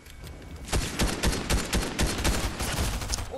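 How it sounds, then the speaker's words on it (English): Rapid gunfire in Fortnite, a burst of sharp, loud shots in a fast irregular rhythm, one crack after another, heard up close with no talk over it. "Can you stop shooting me?"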